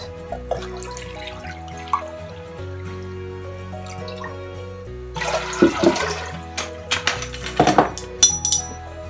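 Filtered water, about 1.5 litres, is poured into a large cooking pot. Soft drips and clinks come first, then a louder burst of splashing and pouring with metallic pot knocks, close up, with no voices.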